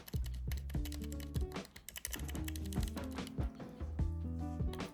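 Keys are typed on a Wooting 60HE keyboard fitted with Gateron Jade switches, producing a quick, irregular run of close, crisp clacks and thocks with no voices.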